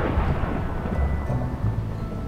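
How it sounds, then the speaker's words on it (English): Rain and thunder in a video game: a steady, dense wash of rain with deep low rumbling thunder rolling underneath, continuous and fairly loud with no voices. "Rain, go away."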